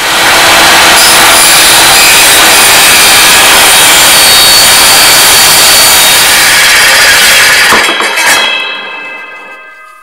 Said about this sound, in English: here I'd rather use this different type of saw, and we're gonna cut this piece